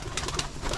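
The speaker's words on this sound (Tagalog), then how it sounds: "Wow, beautiful. Beautiful bird." A pigeon in a loft gives a brief, soft coo close by, with a faint rustle behind it.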